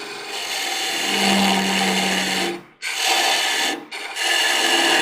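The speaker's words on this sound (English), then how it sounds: "Go down just a little bit more with the parting tool." A parting tool cutting a wooden tenon on a woodturning lathe, a loud continuous rasping scrape that briefly stops twice as the tool is lifted, then resumes.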